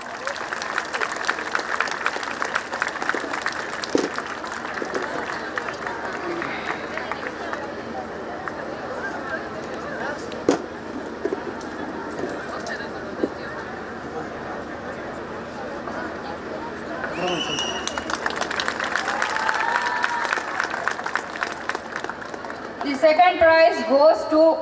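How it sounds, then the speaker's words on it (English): Prize winners at a student prize distribution receive a long round of applause from a crowd, steady dense clapping with a murmur of voices and a brief swell near the end. "Please give them a big round of applause."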